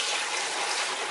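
Chicken stock pours steadily into a pressure cooker pot, a continuous close splashing gush of liquid with no pauses and no voices.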